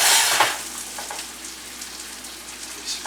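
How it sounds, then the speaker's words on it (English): 99 Bananas liqueur hits a hot pan and sizzles loudly at once, a bright crackling hiss that bubbles on steadily and stays close, with small spits and pops near the start and again at the end. "a little secret, 99 bananas into the hot pan"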